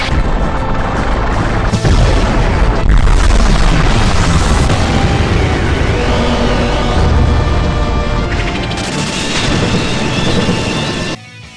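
Diablos's gravity summon attack from Final Fantasy VIII erupts in loud, heavy booms and crashing blasts that roll continuously for several seconds, then cut off abruptly.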